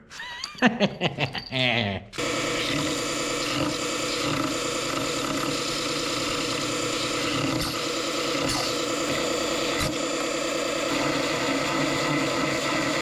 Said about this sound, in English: Let's go clean her up on the belt sander.